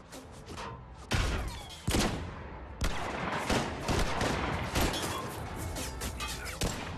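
Gunfire in the video game Mass Effect 3, heavy bursts and booming shots coming in loud, rapid waves that run almost unbroken after a quieter start, with no voices.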